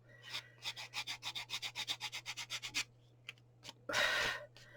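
Quick, rhythmic back-and-forth strokes of sandpaper on a sanding block rubbing a surface, about fifteen passes, then a pause, a couple of faint scrapes and one longer rough rub.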